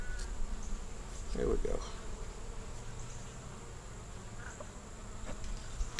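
Honeybees drone steadily in a three-frame nuc with a new queen, a continuous close buzz, while a person speaks briefly over it.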